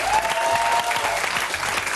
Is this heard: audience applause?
yes